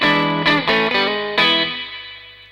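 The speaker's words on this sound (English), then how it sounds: "couldn't easily give up its characteristic drip sound" An electric guitar played through a Surfy Industries Surfybear real spring reverb pedal: a few loud plucked notes and chords, each trailing off into a wet, dripping spring-reverb tail that fades after the last strike.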